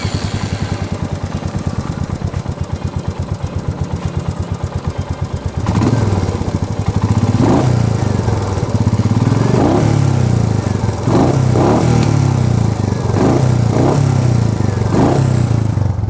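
A Royal Enfield Meteor 350 motorcycle's starter cranks with a rapid rhythmic chugging, then the 350cc single-cylinder engine catches and settles into a loud, close thumping idle with several short throttle blips.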